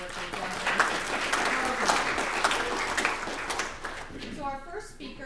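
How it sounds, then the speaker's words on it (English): Crowd applause at a storage developer conference fills most of the stretch as a dense, even wash of clapping, then thins out as a voice begins speaking near the end. "So I'd like to give them a big round of applause for all the great work"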